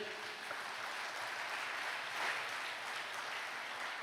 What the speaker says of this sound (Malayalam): ഒന്ന് കൈയുയർത്തി കൈയടിച്ചേ.